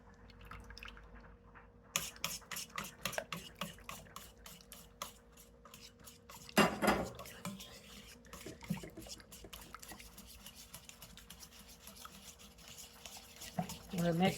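Cooled grease and ingredients for 1940s Southern corn sticks get mixed in a bowl, giving a run of quick, soft, wet scraping strokes that later slow into scattered stirring sounds, fairly close and quiet.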